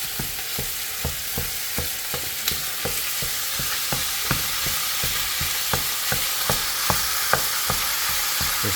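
Ground meat browning in a very hot pot for shepherd's pie, a loud, steady sizzle overlaid with a regular series of dull scraping taps as the meat is broken up, close and continuous.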